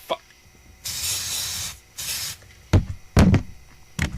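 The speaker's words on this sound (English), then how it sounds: "So now you get hit with the disinfectant." Disinfectant spray aimed at a flying bug indoors, a couple of longer hissing bursts followed by short sharp knocks and thumps, close and fairly loud.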